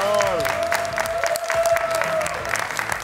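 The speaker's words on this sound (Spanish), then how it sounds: "¡Aplauso cerrado!" Studio audience applauding warmly for two guest brothers on a comedy talk show, steady sustained clapping with a sustained musical tone and a voice speaking over it.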